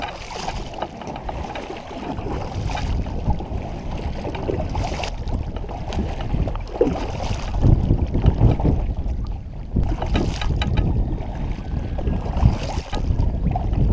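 A fishing boat runs across a lake during a bass tournament, giving a steady low engine drone and hull rumble mixed with buffeting wind noise, continuous and close, with no talking.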